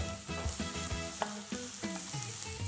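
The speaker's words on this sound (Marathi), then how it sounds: "तर आता आपण ह्याच्यात एक मोठा बोल कांदा बारीक चिरलेला घेतलाय, तो घालूया" Finely chopped onion sizzles and fries in a pan while it is stirred for Goan chicken cafreal, a close, steady crackle broken by occasional scrapes and clinks of the spoon against the pan.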